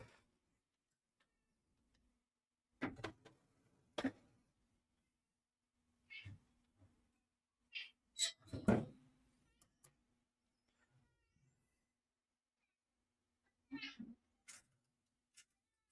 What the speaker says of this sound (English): The cat is crying.